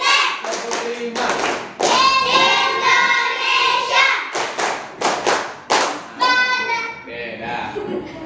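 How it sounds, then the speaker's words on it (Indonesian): Children in a primary school religion class play a counting clap game, with bursts of hand claps and thumps mixed with kids' voices chanting and talking, rhythmic and loud. "Masih ingat tepuk 1, 2, 3, 4, 5?"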